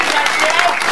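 Brief burst of audience applause at a live blues concert in Longuich, dense clapping from a crowd, loud and continuous for under a second.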